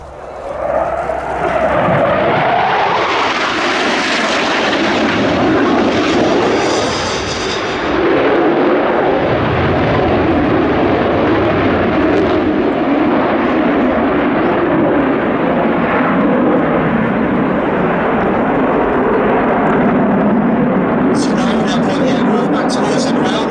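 An ex-West German Air Force aircraft performs at the Duxford Air Festival, its loud engine roar sweeping past and then holding as a sustained, rumbling drone beneath a commentator's voice.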